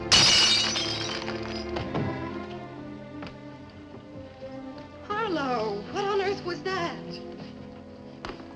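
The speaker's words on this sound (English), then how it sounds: "if you shatter a pane of glass in the dead of night, it makes a noise" A pane of window glass shatters loudly at the start, a sharp crash followed by tinkling fragments, then music and a voice continue over a quiet room setting.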